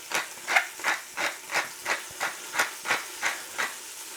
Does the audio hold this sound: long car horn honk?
no